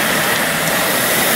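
LNER 458 steam locomotive running on a miniature railway, a loud, close, continuous hiss and engine rumble with no distinct beats or voices over the short span.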